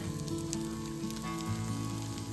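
Butternut squash risotto sizzling steadily in a pan while being stirred, with a continuous close frying hiss and soft scraping of the spoon throughout, no voices.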